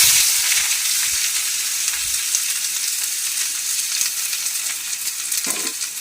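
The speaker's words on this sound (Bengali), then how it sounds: "তেলের মধ্যে এবার কুচিয়ে রাখা পেঁয়াজটা দিয়ে দেব" Chopped onion dropped into a little hot oil in a wok gives a steady, bright frying sizzle that carries on evenly throughout, with a brief stir or clatter near the end; no one speaks.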